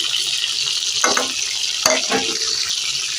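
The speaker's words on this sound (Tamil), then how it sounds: "எண்ணெய் காஞ்சிச்சு கடுகு கொஞ்சம் வெந்தயம் போட்டுக்கலாம்" Hot oil sizzles and crackles loudly up close, with two sharper bursts of spattering as mustard seeds and fenugreek pop in the pan.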